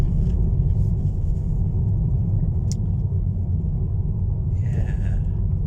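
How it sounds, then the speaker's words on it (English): Cabin of an electric car driving along on a sunny day: a low, steady road rumble fills the interior, with only faint, brief higher ticks and hisses above it and no talk. "as I'm driving along here, you can hear what I hear. The car's really, really quiet"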